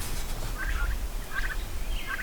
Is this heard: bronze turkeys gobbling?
yes